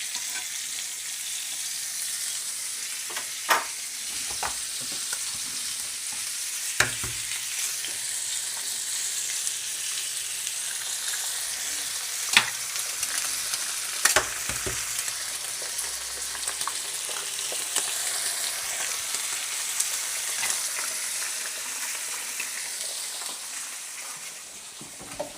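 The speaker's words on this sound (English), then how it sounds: "A couple of eggs in there." Eggs frying in a pan: a steady, close, bright sizzle that runs for about 25 seconds, with occasional sharp crackles and pops and no talk.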